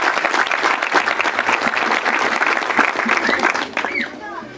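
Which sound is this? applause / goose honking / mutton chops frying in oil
applause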